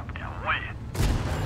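Gunfire exchange in a video game: a sharp burst of shots and booms hits partway through, with a sweeping synthetic whine before it and steady low rumble throughout.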